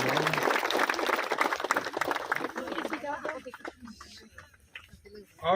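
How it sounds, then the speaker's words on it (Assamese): An audience applauds at a foundation day ceremony of the Nikhil Rabha women's council as the main gate is opened, a dense burst of clapping that thins out, with scattered individual claps and a voice speaking over the tail end. "বৰ্তমান তেখেতে মূল প্ৰৱেশদ্বাৰ মুকলি কৰিব আৰম্ভ কৰিব ওলাইছে আৰু লগতে সকলোৱে হাত চাপৰি দিব"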